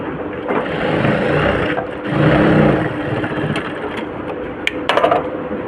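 A sewing machine runs close up while stitching a shaped fabric seam, its motor whirring in long continuous runs with brief pauses and a few sharp clicks near the end.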